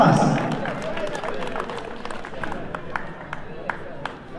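Applause from a ceremony audience welcoming the new board members of a school band's 2022 central ceremony, a steady wash of clapping with a few sharper nearby claps standing out toward the end, crowd murmur beneath.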